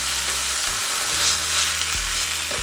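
A fish fillet sizzles steadily in a frying pan, a dense hiss of frying oil that swells briefly as the fillet is flipped, with a low hum running underneath.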